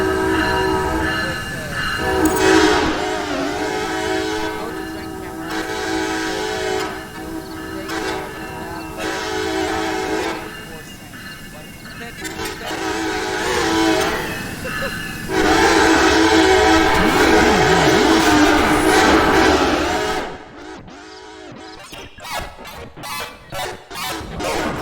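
A train in a video game rumbles along steadily and loud, with long blasts of its horn sounding several times, and brief voices appear near the end.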